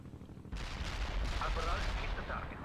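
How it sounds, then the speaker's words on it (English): Mortar fire rumbles and crashes in the real-time strategy game World in Conflict, a dense, continuous barrage of booming impacts and low thuds that starts abruptly and stays loud throughout. "I have incoming mortars."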